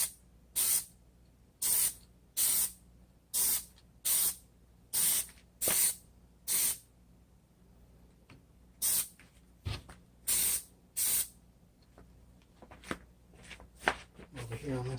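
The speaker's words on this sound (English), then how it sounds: "And I'm going to spray really lightly." A Plasti Dip spray can hisses in about a dozen short, evenly spaced bursts as it lightly coats the front chrome of a 2017 Chevrolet Volt, close and sharp, followed by quieter handling noises and sparse talk.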